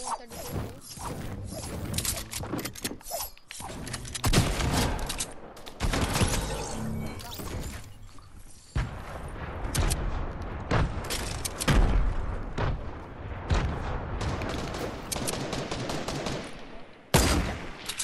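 Rapid bursts of gunfire and automatic weapons fire during a squad shootout in a video game, dense and loud throughout, with booms and crashes mixed in and occasional voices underneath.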